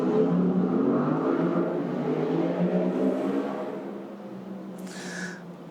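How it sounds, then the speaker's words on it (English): A motorbike engine drones loudly and steadily, then gradually fades as it moves away. "There's an awful lot of motorbike there."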